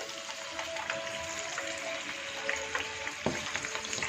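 Vegetables for undhiyu frying in hot oil, a steady close sizzle with soft crackles and occasional stirring clinks throughout.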